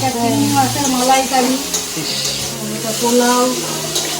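Pulao cooking in a pot sizzles steadily while being stirred, close and fairly loud, with voices talking over the frying throughout.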